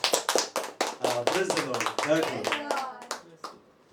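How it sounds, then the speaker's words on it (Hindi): Congregation clapping for the Lord during a Hindi church service, a run of sharp, fairly close hand claps with a voice speaking over them before the clapping fades. "ताली बजाओ प्रभु के लिए।"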